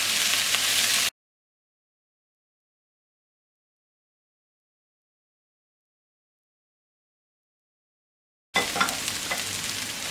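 Vegetables stir-fry quickly over high heat, giving a loud, close hiss and crackle with a few stirring clicks, heard only briefly at the start and the end with dead silence between.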